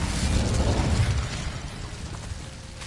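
Incendio fire spell cast in Hogwarts Legacy, a roaring fiery burst with crackling texture that swells at the start and then tapers into a fading rumble.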